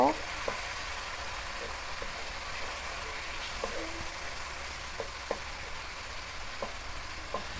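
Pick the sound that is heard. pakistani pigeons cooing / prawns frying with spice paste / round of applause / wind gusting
prawns frying with spice paste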